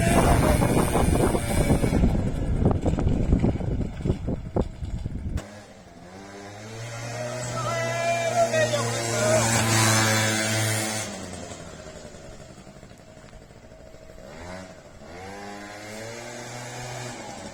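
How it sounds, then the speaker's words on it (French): A small scooter engine runs on a test ride, first a loud rough buzzing rev up close, then dropping to a steadier, quieter idle with wavering revs and occasional blips. "On va tester ce petit scooter au calme"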